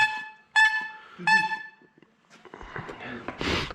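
Two short, bright honks from a small car horn, a pause between them, followed by clattering and rustling noises nearby.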